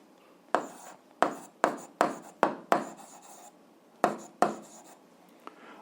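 A pen writes on paper while an algebra exercise is worked out, making about nine crisp scratchy strokes in an uneven rhythm, close and alone in a quiet room.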